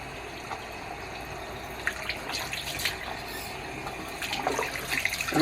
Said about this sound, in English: I use cool water. I don't even want to say lukewarm.